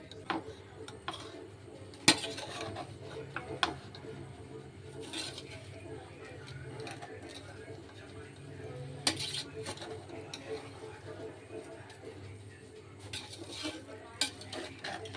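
A spoon turns vegetable biryani, garnished with coriander, in a pot. Soft scraping and stirring run under a low background hum, with sporadic clinks and knocks against the metal rim.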